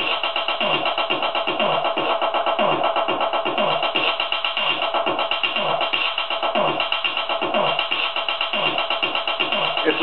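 A distorted, buzzy guitar tone from a modified Boss DS-1 distortion pedal with the tone filter closing down, repeated rhythmic notes sounding muffled and band-limited, steady and loud.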